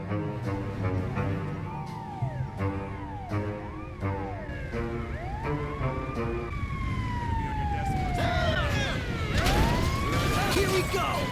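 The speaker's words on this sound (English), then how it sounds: "We got an ambulance on the way." An ambulance siren in GTA wails in a rising and falling cycle, getting louder as it approaches and sweeping in pitch, over a steady rumble of traffic.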